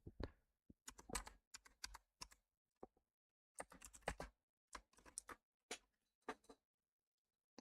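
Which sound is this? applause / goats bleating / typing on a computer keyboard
typing on a computer keyboard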